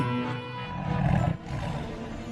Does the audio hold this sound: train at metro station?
no